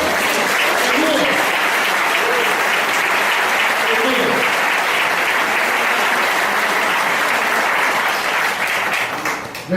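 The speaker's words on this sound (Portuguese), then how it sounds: "Você pode aplaudir ao Senhor?" A church congregation applauding at a revival service, a loud, steady wall of clapping lasting about ten seconds, with a few voices audible beneath it.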